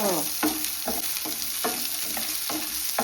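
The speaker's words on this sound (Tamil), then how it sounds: "ஒரு சின்ன தண்டு இஞ்சி இதை வந்து எண்ணெயில் லைட்டாக வதக்கி எடுக்கணுங்க" Ginger sizzles lightly in hot oil for a chicken curry, a steady frying hiss broken by regular scraping strokes of a spoon stirring in the pan, close and continuous.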